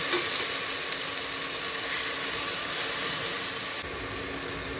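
Onions frying in a pan for a South Indian prawn head gravy, giving a loud, continuous close-up sizzle and hiss that drops slightly near the end.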